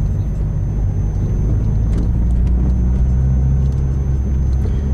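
A manual car being driven in second gear gives off a steady low engine rumble and road noise from inside the cabin, loud and even throughout, with no talking.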